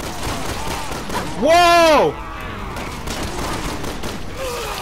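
Dense gunfire in Resident Evil 6 crackles steadily throughout, while a voice shouts a loud exclamation over it partway through.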